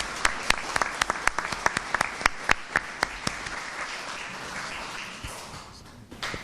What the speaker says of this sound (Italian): Gli facciamo anche un applauso mentre si avvicina.